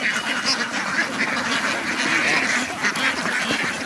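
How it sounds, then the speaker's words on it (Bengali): A large flock of native domestic ducks at a duck farm quacks loudly and continuously, many overlapping nasal calls close by with no pause. "সব দেশি হাঁস এখানে আনুমানিক কতগুলো হাঁস হতে পারে"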